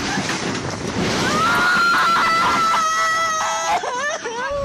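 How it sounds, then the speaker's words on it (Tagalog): Strong wind roars over heavy rain in Cagayan, Philippines, in a loud, constant rush, with a high whistling tone that rises and wavers through the storm. "habang binabayo ng malakas na ulan at hangin"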